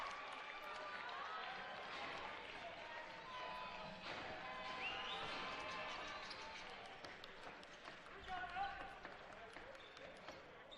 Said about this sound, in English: And Fardon Zamak comes off to an applause.